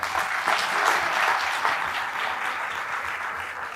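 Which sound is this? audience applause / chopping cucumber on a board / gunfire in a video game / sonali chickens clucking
audience applause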